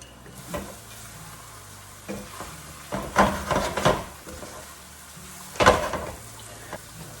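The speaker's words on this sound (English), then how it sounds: "Raise the heat because you want all this to be hot. And now I'm gonna add the" Zucchini noodles with shrimp and garlic cooking in a hot pan: a sizzle runs underneath while several bursts of stirring and tossing scrape and clatter, the loudest near the middle and again toward the end.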